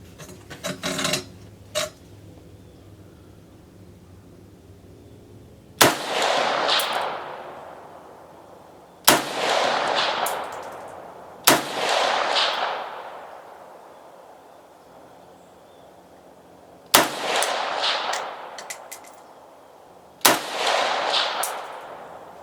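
An AK-74 Tantal rifle fitted with a bipod fires single shots at an outdoor range: a few faint early cracks, then five loud, widely spaced blasts, each with a long echoing decay.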